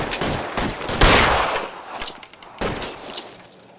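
Gunfire in L.A. Noire: several sharp, loud shots and short bursts with echoing decay, spaced irregularly across a brief exchange.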